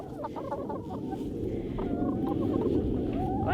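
Backyard chickens on a winter smallholding cluck in a soft, continuous chorus, with short rising notes from several hens close by over a low, busy murmur.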